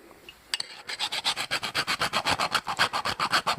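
A file rasps steadily into a stainless steel knob in a check for brass, around twenty rhythmic back-and-forth strokes, close and loud, with no talk.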